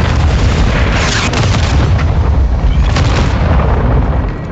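Air support gunfire striking the ground in Modern Warfare 2, a loud, sustained roar of rumbling explosions and blasts filling the whole moment without letup.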